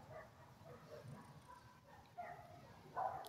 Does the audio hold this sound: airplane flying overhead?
no